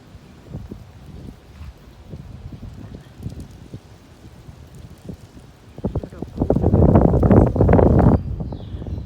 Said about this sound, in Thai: เย็นสบายอยู่ลมพัดดี